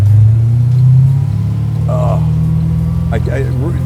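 Custom C3 Corvette LT1 muscle car engine making 643 horsepower, a deep loud idle rumble that dips slightly after a second, with people talking over it.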